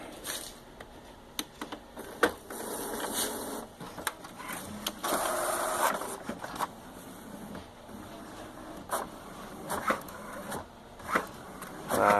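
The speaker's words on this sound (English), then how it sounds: "let's print a test page." Inkjet printer printing a test page: repeated mechanical whirs and sharp clicks as the print head shuttles, with a longer grinding pass in the middle, close and moderately loud, no talk.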